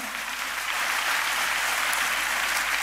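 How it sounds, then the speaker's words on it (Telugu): Audience applause at a talk, a steady, dense wash of many hands clapping together for about three seconds, loud and even throughout with no voices. "ఒక్కసారి ఆయన నిమిత్తమై ఒక్కసారి చప్పట్లు కొడతారా?"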